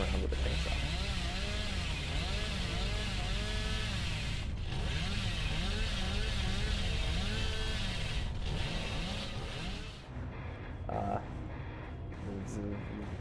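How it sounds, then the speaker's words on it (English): A chainsaw in the Dead by Daylight video game revs continuously with a rough, droning, wavering motor tone, loud and sustained, before the sound thins out near the end. "Excuse me while I run around with a chainsaw."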